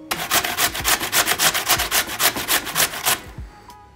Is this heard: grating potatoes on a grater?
yes